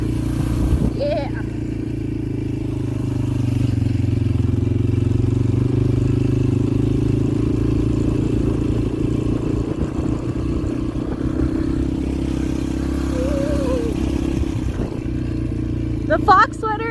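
A Yamaha TTR 125 LE dirt bike engine drones steadily and close by throughout, with a low sustained hum that swells slightly mid-ride, and a few brief voice sounds drift over it.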